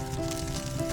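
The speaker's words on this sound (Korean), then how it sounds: "지글지글 통닭이 되어갑니다." A whole chicken roasts in a rotating cylindrical cage over a wood fire, giving off a soft, steady crackling sizzle with faint fire noise and a low hum, close and fairly quiet.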